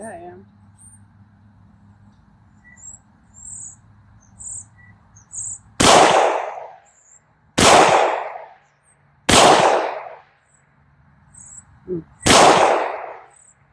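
Four loud, sharp pistol shots from a Canik TP9SFX at outdoor target practice, evenly spaced about two seconds apart, with quiet talk and faint insect chirps between them.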